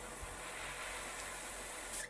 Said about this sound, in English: something I like to do with the black on the golden shiner pattern is spray